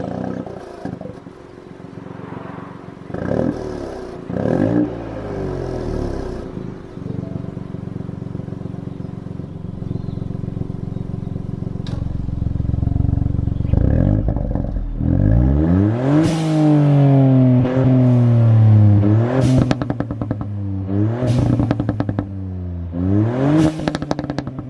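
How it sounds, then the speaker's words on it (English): A Ford Fiesta ST fitted with a Scorpion exhaust with carbon tips revs repeatedly. A steady idle rises into loud, sweeping revs with a deep, throaty tone, followed by several sharp blips close to the tailpipe. "this exhaust does sound really good"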